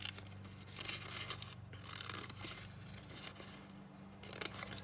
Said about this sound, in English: So go ahead and cut out the rest of your houses.